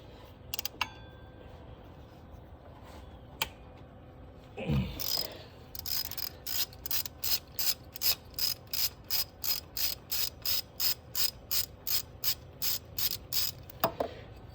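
Ratchet wrench clicking rapidly in steady bursts while removing pulleys during a timing belt change on an LQ1 DOHC V6 engine, close and crisp after a few scattered metallic clanks.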